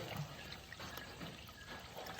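Water being poured into rice flour to make puttu: a faint, steady pouring trickle heard alone at low volume.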